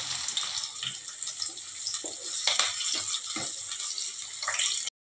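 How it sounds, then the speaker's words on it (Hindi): Chopped onion sizzles in hot oil with cumin in a kadai, a continuous close crackling hiss with small pops that stops abruptly at the end. "जीरा जैसे गरम हो गया है, ये प्याज कटा हुआ डालेंगे।"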